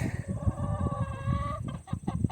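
Ameraucana chickens clucking nearby, a run of close, loud throaty clucks followed by a few sharper calls toward the end.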